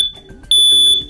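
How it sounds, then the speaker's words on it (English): USI MI106 hardwired ionization smoke alarm giving its loud 85-decibel chirp, a piercing high electronic tone that sounds sharply and holds for about half a second, close and alone over a faint low background. "When an alarm is triggered, you'll hear a loud 85 decibel chirp to alert you."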